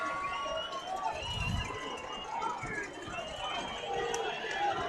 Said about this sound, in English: That West student section, they're starting to get loud now.